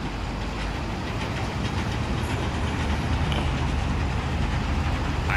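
Fortschritt E512 combine with its header running in Farming Simulator 22, a constant loud mechanical rumble and rattling clatter that holds steady with no pauses and no voices.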